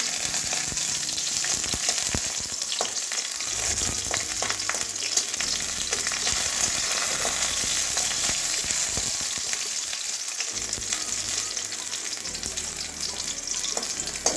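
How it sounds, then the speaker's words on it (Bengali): Garlic cloves and slit green chillies sizzle and spit steadily in hot oil, a loud continuous frying hiss with crackling bursts, heard alone without talk. "এবারে রসুন কয়েকটা ভেজে নেব তার সঙ্গে দুটো কাঁচা লঙ্কা মাঝখানে চিরিয়ে দিয়েছি দিয়ে দিচ্ছি"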